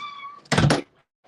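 A cat gives one loud, close meow lasting about a third of a second, preceded by a faint tonal hum and followed by a soft distant knock.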